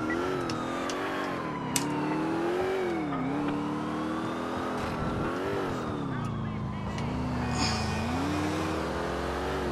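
A car engine in the video game GTA IV revs and accelerates continuously, its pitch rising and dipping as the driver steers, with occasional tire squeal and faint impacts.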